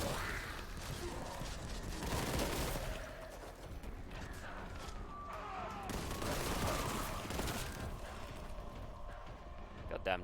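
A bolt gun fires in a Warhammer 40k video game as dense, continuous bursts of gunfire within a loud, busy battle mix of impacts and effects, with game voices woven through.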